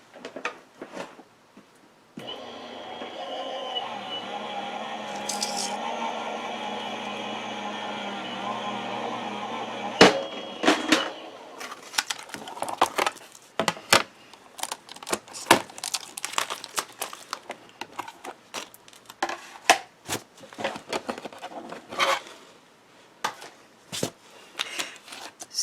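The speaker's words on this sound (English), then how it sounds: "And then I'm going to run it through my die cut machine." A die cut machine runs layered cardstock through its rollers with a steady mechanical whir for several seconds, followed by crinkling, shuffling paper and tape-peeling handling sounds close by.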